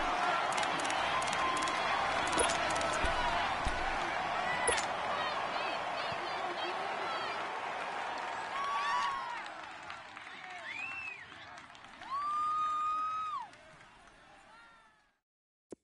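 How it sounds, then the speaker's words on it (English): A football crowd roars in broad, steady waves before a big third down, loud at first and then fading, with voices heard through it. "the crowd getting into it as we come up on a big third down"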